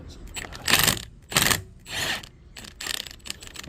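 A wrench working loose the flywheel nut on a Mercury Mariner 150hp two-stroke outboard, with several separate metallic clanks, ratcheting clicks and scrapes in short uneven bursts, close up, no voices.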